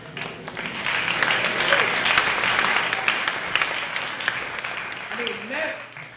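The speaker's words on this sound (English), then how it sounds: "Give everybody a hand of applause who's in this cast." Sustained audience applause for the cast of a Peter Pan stage production, a dense wash of many hands clapping steadily, with some voices mixed in and the clapping tapering toward the end.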